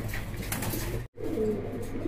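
A pair of giant homer pigeons, one blue bar and one black checker, coo softly in low rolling murmurs at a pigeon exhibition and market, close by with a brief cut midway.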